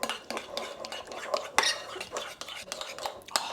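Spoon clinking and scraping in a pan as spinach and bean shakshuka is mixed with a teaspoon of homemade chili oil and salt, with close, irregular metallic taps and stirring scrapes, no talking.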